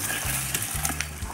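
Dried chilies, urad dal and mustard seeds fry in hot tempering oil, giving a brief close sizzle with small crackles over a low rumbling background hum.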